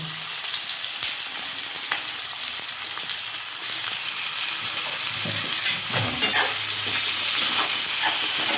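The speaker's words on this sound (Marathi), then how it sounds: "हे सगळं परतून घेऊन सॉफ्ट होईपर्यंत करायचं." Curry leaves, onion, green chilli and tomato are sautéed and stirred in a pan in a village kitchen, a steady loud sizzle broken by scraping strokes of the spatula, with no voices.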